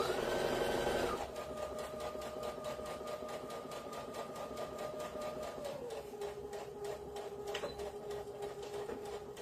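A domestic sewing machine stitches a seam with a fast, even mechanical whir, its motor pitch dropping slightly partway through, steady and close with no talking.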